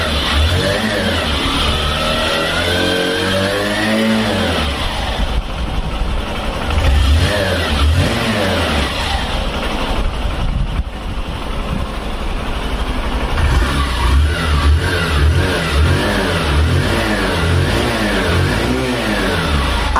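A 125cc motorcycle engine idles and is repeatedly revved, the exhaust note rising and falling in loud, close bursts for the whole stretch.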